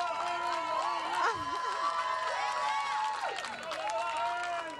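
Big Brother fans gather outside the house as a contestant enters, producing a continuous crowd din of cheering and shouting, with a host's voice talking over it throughout.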